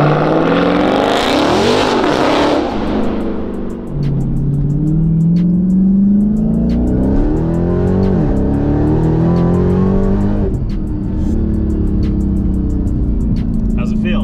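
An 850-horsepower rear-wheel-drive Dodge Demon roars loudly from close range, its engine note rising and falling steadily through a sustained acceleration with a brief dip midway before pulling hard again.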